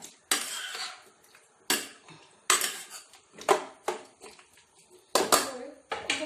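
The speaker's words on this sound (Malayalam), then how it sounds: "ഇതൊന്നും ഇളക്കി യോജിപ്പിക്കട്ടെ" A utensil scrapes and clinks against a pot while chicken stew is stirred, in repeated sharp strokes separated by short pauses, close and fairly loud.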